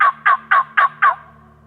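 A Merriam's wild turkey in Washington State gobbles five times in quick succession from across a canyon, each rattling call loud and clear with short pauses between and nothing else audible.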